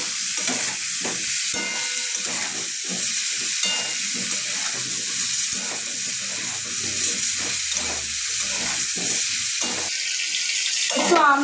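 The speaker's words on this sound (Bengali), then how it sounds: "এবার একটু হলুদ গুঁড়ো দিয়ে দেবো, দিয়ে ভালোভাবে নাড়িয়ে নেব।" Mango pieces with salt and turmeric are stirred in a pan for a tangy mango chutney. A loud, steady hiss of cooking fills the scene, cut by regular dull scrapes of the spoon close by.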